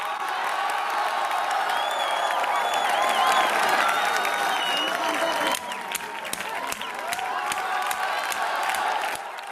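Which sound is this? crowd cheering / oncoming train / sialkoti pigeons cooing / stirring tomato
crowd cheering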